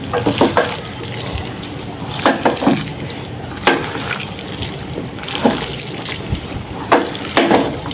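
Water splashes and pours into a cooking pot in several short bursts, close by, with a steady wet background hiss and no talking.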